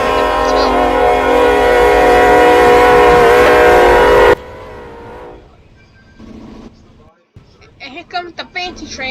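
A video game train, crashing with a truck, blares a loud, sustained horn for several seconds. Then it cuts to a quieter rumble of the train rushing past, with scattered clattering and impact noises at the end.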